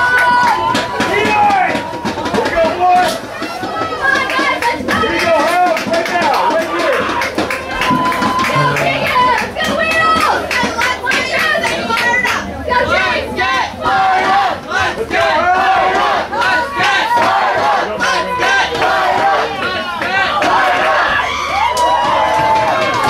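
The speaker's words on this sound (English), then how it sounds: "The Trojan fans start to come alive. Cheer on their team." Trojan supporters cheer and shout loudly and steadily at a senior boys' rugby final, a dense crowd roar with yells and scattered clapping under a commentator's voice.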